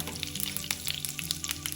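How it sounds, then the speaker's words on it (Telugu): Curry leaves sizzle in hot tempering oil with chana dal, urad dal, mustard seeds and cumin, giving a close, steady crackling fry with sharp pops spread throughout. "తాలింపు వేగాక దీనిలో కరివేపాకు వేసుకుందాం"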